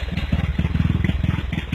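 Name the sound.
homemade tractor engine running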